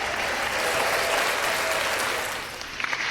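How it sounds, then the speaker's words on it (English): Loud applause from a crowd, dense clapping close up and sustained for about three seconds before it thins out slightly at the end. "I need my loud claps."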